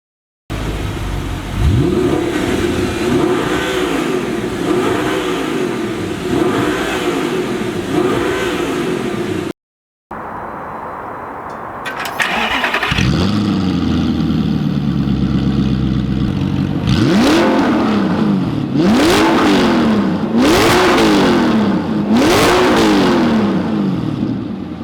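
A loud Audi R8 with straight-piped exhaust revs hard again and again in sharp rising bursts, brief pause midway, then more aggressive revving, raspy and booming up close indoors.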